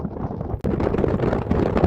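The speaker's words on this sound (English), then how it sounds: "It is incredibly windy up here" Strong winter wind on an icy hillside above Lough Tay, County Wicklow, buffets the microphone in a loud, continuous roar with gusty fluctuations and a brief dropout.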